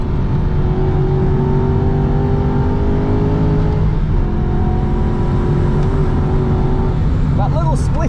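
An Aston Martin V8 Vantage race car, the Valiant Ecosse, roars loudly from onboard on a Nürburgring lap, its engine droning hard through fifth gear while the driver talks over it.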